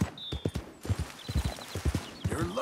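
A horse's hooves clip-clopping in Red Dead Redemption 2, a string of crisp, close hoof strikes at a walking pace with a brief snort or whinny near the end, no talking over it.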